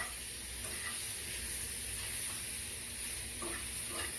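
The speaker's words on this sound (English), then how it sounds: "So we're going to cook the shrimp. Let it cook down." Shrimp cooking with scallions in a pan, a steady continuous sizzle and hiss with a few faint stirring clicks, close and even throughout with no talk.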